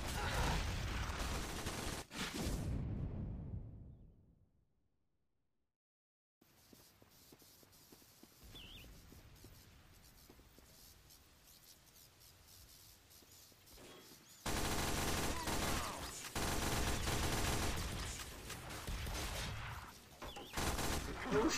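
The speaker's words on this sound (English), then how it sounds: "Oh, we're on the giant fucking sentry gun nest." A giant sentry gun nest firing in a video game, sustained loud bursts of rapid gunfire that cut out into near silence, resume faintly, then return at full intensity.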